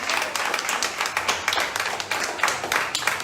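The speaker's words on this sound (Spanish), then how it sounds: "Fuerte el aplauso, ¿no?" Steady applause from a church congregation, dense clapping that rises and falls in waves without a break, fairly loud and close.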